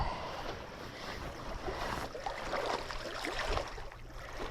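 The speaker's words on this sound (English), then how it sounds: "The waves are moving my line around a lot." Choppy water and surf slapping steadily outdoors near a fishing line on a rainy evening close to sunset, with wind noise mixed in, a continuous loud wash without talking.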